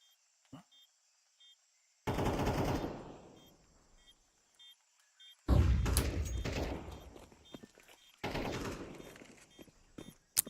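Counter-Strike match with AK rifle and USP pistol fire: loud bursts of gunshots in two main volleys, one short and one longer stretch, over a faint steady game background with brief small clicks between.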